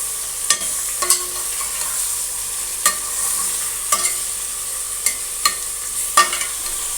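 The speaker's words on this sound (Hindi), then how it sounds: "गोश्त को हम अच्छे से भूनेंगे।" Mutton sizzles with softened onions in a pan, a steady frying hiss broken by scattered clicks and scrapes of stirring, with no voices.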